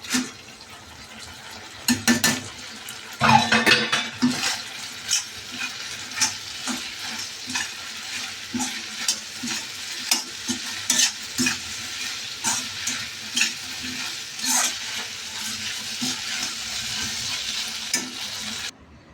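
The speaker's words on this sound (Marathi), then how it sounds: "चला तर आता सोयाबीन टाकून देऊया." Soybeans fry and sizzle in a pan while a utensil stirs them, giving steady close sizzling with repeated scraping and clinking strokes throughout.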